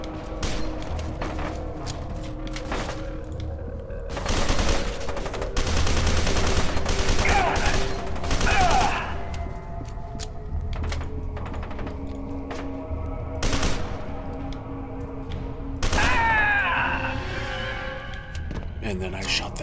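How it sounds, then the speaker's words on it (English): Gunfire from the first-person shooter game F.E.A.R. 2 comes in repeated rattling automatic bursts, loud and close, separated by short pauses and game noise. "And then I shot them all to death."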